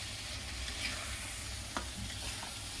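Tomatoes stirred into a rohu fish curry with spinach and poppy seed in a hot pan, a steady close sizzle broken by a single soft scrape, with no talking.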